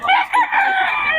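A rooster crows nearby, a single loud, full crow filling just over a second, with faint background talk around it.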